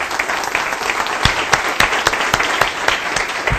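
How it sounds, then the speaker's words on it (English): Audience applause at the close of a talk: dense, steady clapping from a room full of people, loud and sustained throughout with a few sharper nearby claps standing out. "Let's give him a round of applause."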